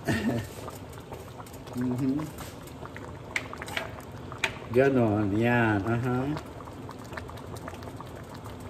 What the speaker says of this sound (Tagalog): pakuluin nyo ng pakuluin bago nyo hiulog ang noodles